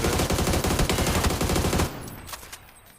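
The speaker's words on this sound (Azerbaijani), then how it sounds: "Bax, bütün güllərini boşaltdım," Rapid automatic gunfire from the battle-royale game PUBG, a loud dense burst of rattling shots for about two seconds that cuts off, followed by a faint tail of distant shots.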